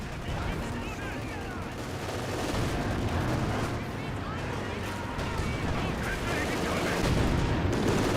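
Sustained battlefield gunfire and artillery from Company of Heroes 2, a dense continuous barrage of shots and blasts filling the whole stretch, with someone talking over it throughout.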